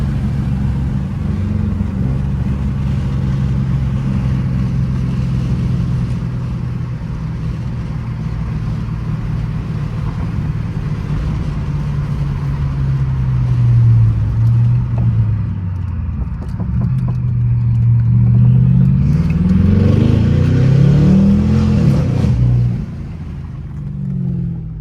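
A BMW 550i with catless downpipes and straight pipes rumbles loudly from inside the car, its deep exhaust drone rising and falling through several pulls, with revs sweeping up strongly toward the end before easing off.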